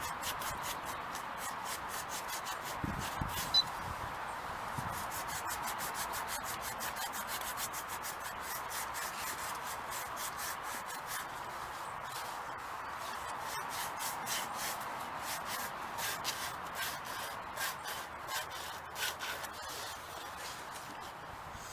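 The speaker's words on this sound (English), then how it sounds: "What we then have to do is abrade it." Someone abrades a blown fibre tube by hand before fitting heat shrink, making a continuous close scratchy rubbing with rapid back-and-forth strokes that keeps going for about twenty seconds, with no talking.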